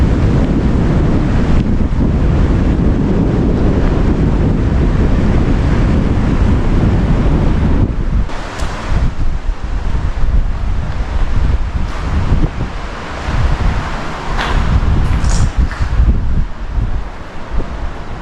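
Strong wind blasts a microphone on a wet seashore, a loud continuous roar of gusts that eases slightly halfway through, with waves and surf breaking underneath.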